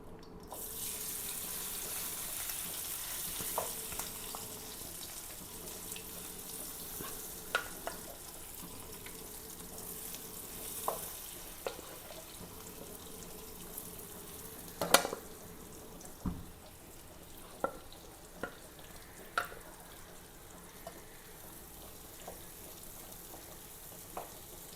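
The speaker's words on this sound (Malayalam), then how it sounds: "അപ്പോൾ വലിയ പൂളാനൊക്കെ ഞാൻ വറുക്കാൻ പോവാട്ടോ." Spice-marinated fish, rubbed with chilli and pepper powder, fries in a pan with a soft, steady sizzle and occasional sharp pops and clinks, fairly faint and without any talk.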